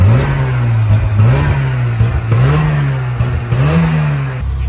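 A tuned Volkswagen Golf 2 GTI G60 engine revs from behind the car, loud and close, with several throttle blips rising and falling over a steady rumbling exhaust drone.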